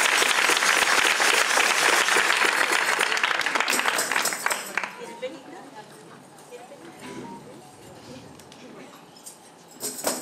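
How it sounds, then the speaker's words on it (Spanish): A hall audience at the fifteenth-anniversary celebration of the Parranda de Manilva gives a loud burst of clapping that lasts about four seconds, then cuts off, and a voice speaks over quieter room noise. "le demos un fuerte aplauso aquí a Miguel"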